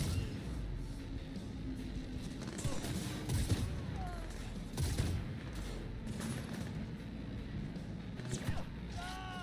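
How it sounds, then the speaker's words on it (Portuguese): A sniper rifle fires in the video game Cyberpunk 2077 during combat, with several sharp shots scattered over a continuous mechanical game ambience. "eu vou começar a atirar aqui, vocês vão ver, é muito legal"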